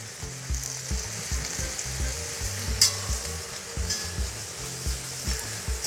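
Carrots, onions and garlic fry in a kazan over a Kamado grill, a steady loud sizzle with rhythmic stirring scrapes and low knocks of the spoon against the pot.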